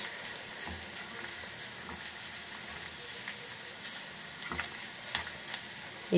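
Garlic fries gently in a pan over a low flame with a steady soft sizzle, a few light clicks and stirring scrapes over a continuous crackling bed, and no talk.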